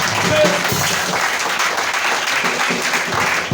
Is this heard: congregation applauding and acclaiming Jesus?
yes